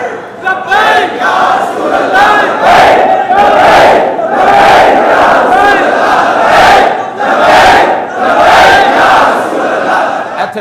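A large crowd at a Tehreek Labbaik Pakistan religious rally chants political slogans in loud, rhythmic bursts, with repeated swelling shouts that rise and fall across the whole stretch.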